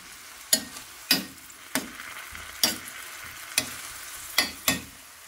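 Vegetable chop suey is stirred in a frying pan, with about eight sharp scraping clatters of the utensil against the pan spaced roughly every half second over a soft background sizzle.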